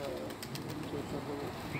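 Racing pigeons kept by a pigeon fancier coo softly in a short burst, close by, with voices talking over them.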